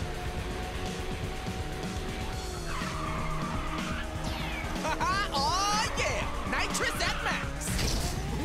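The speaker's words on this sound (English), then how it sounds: "We got triple nitrous off the ramp." In the Ridge Racer 6 video game, a race car fires a triple nitrous boost off a ramp, its engine roaring loudly with whooshing, sweeping game effects and tire skids across several seconds, while players talk over it.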